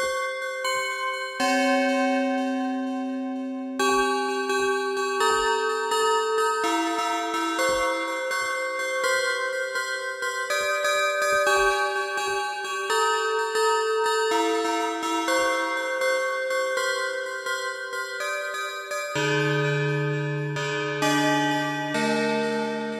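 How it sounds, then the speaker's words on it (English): Synthesized church bell tones from a plate resonator in Chromaphone 2, ringing in a slow melodic sequence, each strike bright and metallic with long resonant decay, loud and continuous. "we're going to get that big church bell sound using the plate resonator"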